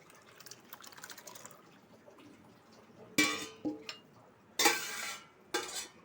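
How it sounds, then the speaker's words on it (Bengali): Water is poured off from a vessel in a home kitchen while makha sandesh is being made: three short, splashing gushes, close and clear, after a quiet stretch of faint clinking. "জলটা ফেলে দেবো, আর একবারের মতো আছে।"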